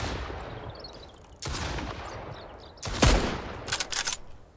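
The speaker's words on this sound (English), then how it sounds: "Trying to shoot me with a shotgun" Shotgun and other gunfire in the survival game Mist Survival during a bandit camp raid: several sharp blasts with decaying tails, one very loud close shot followed by a rapid cluster of reports.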